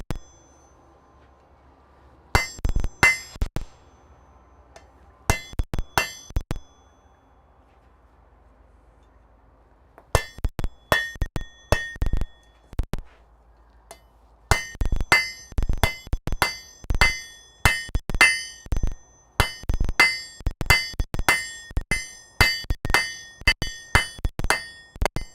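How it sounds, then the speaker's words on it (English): Hot metal is hammered on the edge of an anvil in a smithy, with sharp ringing strikes in bursts, some spaced and some in quick rhythmic runs, separated by brief pauses. "I'm going to go ahead and use the edge of my anvil to be more defining"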